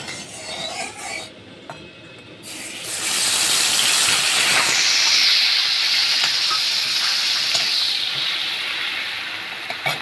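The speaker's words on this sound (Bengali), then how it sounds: "কড়াইটা গরম হয়ে গেছে আমি এর মধ্যে একটু সর্ষের তেল দিয়ে দেবো" Ground mustard leaf paste hits hot mustard oil in a heated pan and sets off a loud, steady sizzle that swells after a quieter start and holds strong with a bright hiss.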